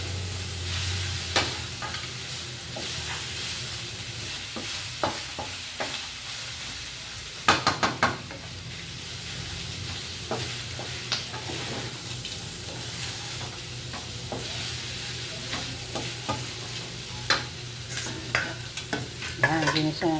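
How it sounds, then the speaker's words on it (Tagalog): Garlic and onion sautéing in a hot pan give a steady, moderate sizzle with occasional pops and stirring clatter throughout, no talking. "ginisa na natin siya sa ating bawang at sibuyas"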